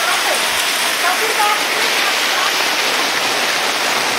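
Floodwater rushes past a wall during flooding in Itaquiraí, Brazil, a loud, continuous hissing roar of fast-moving water filling the scene close by.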